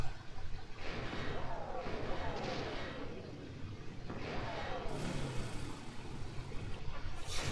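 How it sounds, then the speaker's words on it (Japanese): Engine noise from the Sakura Taisen 2 video game, a rising moped-like revving that swells twice amid rumbling blasts, with a voice talking over it. "原付きみたいな音がしたな"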